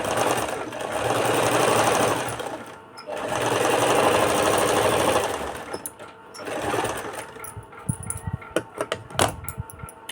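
A sewing machine stitching blouse fabric runs in three sustained bursts of rapid, buzzing stitches, followed by clicks, knocks and fabric handling noises up close.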